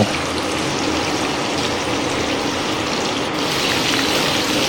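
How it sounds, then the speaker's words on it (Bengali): Potato pieces sizzle in hot mustard oil in a kadai, a dense, steady frying hiss that runs close and loud throughout with no pauses and no voices. "কড়াইয়ে সর্ষের তেল ঢেলে ভালোভাবে গরম করে এক এক করে আলুর পিসগুলো দিয়ে দিচ্ছি এবং ভালোভাবে ফ্রাই করে নেব"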